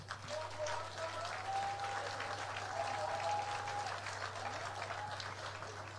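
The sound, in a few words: applause at charity evening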